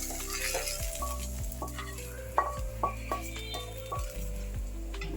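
Tomatoes frying in a pan for a chutney, a steady sizzle under repeated scraping and stirring strokes of a utensil against the pan, close and moderately quiet.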